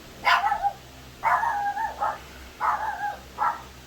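A dog barks four times in short bursts, close by and fairly loud, over a quiet background with no talking.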